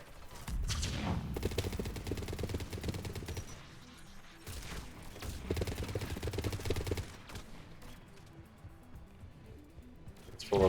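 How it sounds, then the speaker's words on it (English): A mounted turret fires during combat in the video game Mass Effect 3. Sustained heavy rapid fire rolls in long, dense bursts with a brief lull between them, loud and close, with no voices. "Mounted turret."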